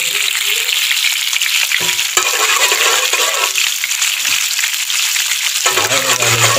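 Eel frying in hot oil in a pan gives a loud, steady, close sizzle with occasional metallic clinks, and no talking.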